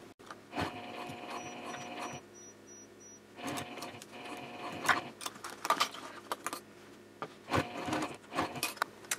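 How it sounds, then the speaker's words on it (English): Sewing machine stitching the front binding onto a baby sling, heard as close bursts of rapid mechanical needle chatter separated by brief pauses, with small clicks and handling sounds between runs. "Now I am going to sew the front binding in place."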